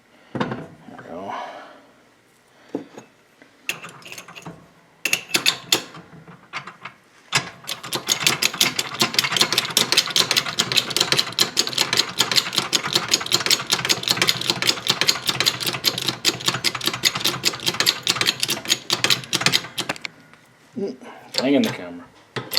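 A socket wrench ratchets rapidly and continuously on a VW Buggy link-and-king front beam during a rebuild, a loud close clicking run after a few scattered clicks, with someone speaking at the start and end.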